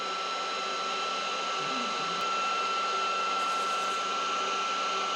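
A Bolt Buster induction heater heating a bolt gives off a steady, loud electrical whine and hum with high tonal lines, running unbroken throughout with no talk.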